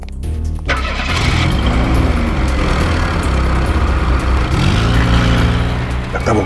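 Car engine cranks and catches, then roars up into loud revving with rising and falling pitch sweeps, close and dominant throughout.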